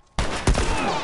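Gunfire in The Last of Us erupts abruptly after a near-silent lead-in, a dense fusillade of shots with one heavier blast in the middle, sustained loud and close to the end.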